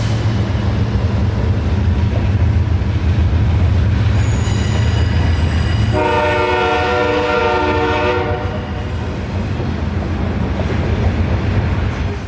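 A Norfolk Southern freight train led by BNSF locomotives, headed from Memphis toward Charlotte, rumbles past loud and close with steady wheel roar, and a long horn blast rises midway before fading back into the rolling noise.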